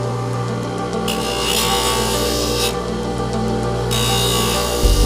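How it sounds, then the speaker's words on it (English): Steady rasping drone of denture teeth being trimmed for an arch setup, with a continuous grinding hum and brighter high-pitched bursts where the tool bites harder; no voices. "there is no way I can put that teeth on that arch without trimming it"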